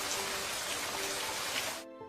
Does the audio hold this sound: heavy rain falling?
yes